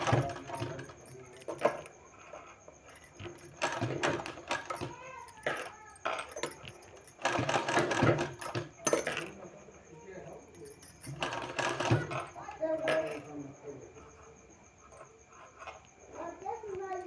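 A sewing machine stitches around a sleeve, running in short, uneven bursts with pauses between them while someone talks over it.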